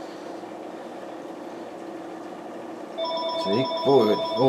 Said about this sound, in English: That is my phone ringing, so we're just going to have to put up with that ringing for a few moments.